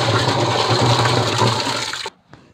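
Water rushes and churns loudly as a container is plunged into a rain barrel to draw collected rainwater for a vegetable garden, a steady two-second gush that cuts off abruptly, followed by a few faint drips and clunks.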